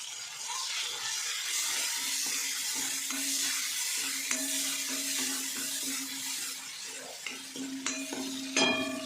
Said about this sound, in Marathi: हिरवी मिरची कोथिंबीर आणि अद्रकाची पेस्ट घालून घ्यायचं आता हे चांगलं परतून घ्यायचं